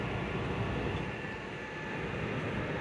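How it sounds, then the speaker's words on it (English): Construction work somewhere down the road from a steep granite-paved city street comes through as a steady, distant broadband rumble that holds at an even level throughout, with no talking. "there's some construction going on just down the road"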